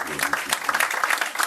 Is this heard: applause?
yes